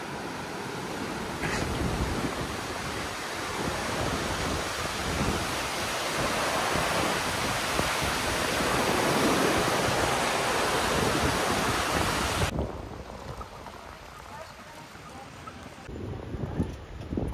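Rapids on a river in the Alps rush loudly and continuously, a broad roar of white water that drops somewhat in the final seconds.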